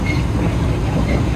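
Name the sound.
inside a moving train in Taiwan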